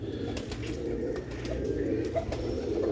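Sialkoti red pigeons coo softly and repeatedly at close range over a steady background hum.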